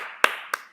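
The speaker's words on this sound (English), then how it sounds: "I'm going to clap that one." Two sharp hand claps, about a quarter second apart, ring out close and fairly loud over a steady background hum, with no talking.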